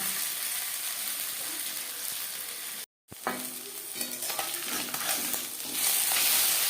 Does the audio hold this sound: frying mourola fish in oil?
yes